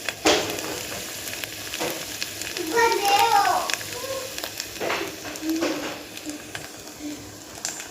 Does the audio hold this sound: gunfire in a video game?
no